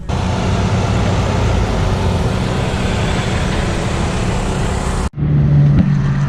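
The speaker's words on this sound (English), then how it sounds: "Alright, practice day has started. Cars are on track, might be able to hear it." Race cars on track during practice day at a 24 Hours of LeMons event at Thompson in the rain, a continuous loud engine roar from passing cars that stops abruptly near the end.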